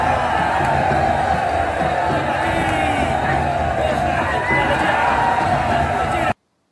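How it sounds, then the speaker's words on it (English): A large crowd roars and cheers loudly and continuously in the video game John Rambo, with dense voices and shouts swelling together before cutting off abruptly. "They're cheering them on"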